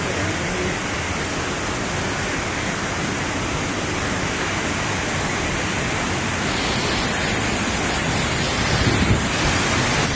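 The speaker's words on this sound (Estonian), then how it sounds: "siit on nüüd kosta kõva veemühinet" A loud, unbroken roar of rushing water fills a cave near Riva del Garda, a dense, close, steady rumble that never lets up, with no voices heard.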